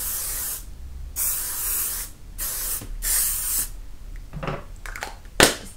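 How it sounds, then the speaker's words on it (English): Hairspray misted onto hair from an aerosol can, heard as several close, hissing bursts of varying length with short gaps between them. "you can finish with a bit of hairspray"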